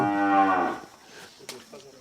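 Mother cows on a foundation's farm moo once, a loud, drawn-out low call close by, followed by fainter rustling and a brief scuffle.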